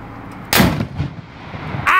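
A single loud cannon blast from Cherokee Guns in Murphy, North Carolina booms close by and rolls off into a low rumbling decay, followed by a brief shout just as the clip ends.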